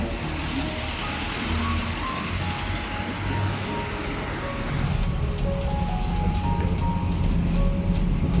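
The Mont Blanc tram hums along with a steady low rumble and a few thin tonal whines, its rolling noise growing slightly rougher toward the end.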